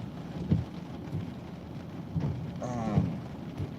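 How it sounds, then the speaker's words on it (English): Steady rain falls during a thunderstorm under a tornado warning in Burnsville, Minnesota, with low rumbles of thunder rolling in and out every second or so at a moderate distance, and nobody speaking. "watching the storm move through"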